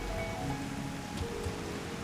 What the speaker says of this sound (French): mais quand il pleut, il fait pas semblant de pleuvoir.